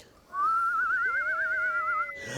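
Voices imitating the wind blowing during a storm in a told folk tale: a wavering, warbling whistle-like tone rising and falling for about two seconds, with a second lower voice joining.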